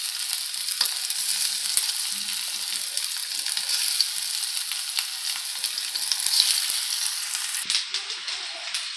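Aloo vadi, colocasia leaf rolls, frying in hot oil: a steady, bright sizzle that holds throughout at a close, even level, with no voices.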